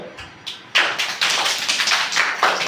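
Small children at an anganwadi centre clap their hands together, a few scattered claps that build into a sustained, fairly close round of uneven applause.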